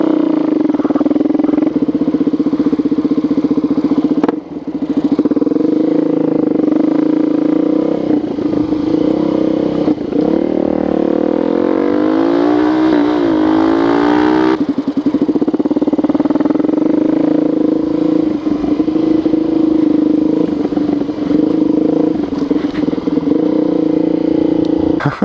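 A Suzuki DRZ400SM motorcycle's single-cylinder engine runs loud and close throughout while being ridden, holding a steady drone with a rising rev sweep in the middle and continuous throttle changes.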